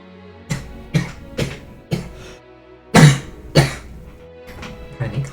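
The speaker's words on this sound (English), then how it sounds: "Pardon me, coughing." A person coughs repeatedly in a series of sharp, close bursts, roughly seven or eight spaced over several seconds, with a couple of stronger coughs in the middle and no talking.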